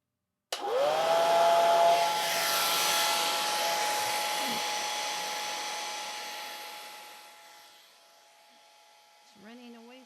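A hair dryer blows on watercolor paper, switching on abruptly to a loud, close whoosh with a steady whine, then slowly softening over several seconds before someone speaks briefly at the end.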